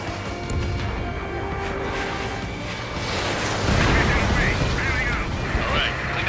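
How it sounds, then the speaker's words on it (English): Missile launch and rolling explosions in the jet combat game Ace Combat 7: Skies Unknown, a sustained roar of engine and blasts that swells into heavier booms midway, with radio chatter mixed in. "H1 launching missile."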